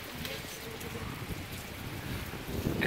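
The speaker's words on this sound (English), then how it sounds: "Just the rain is pouring rain here." Heavy rain pouring down in a hillside oolong tea village, a dense, steady hiss with some wind buffeting the microphone.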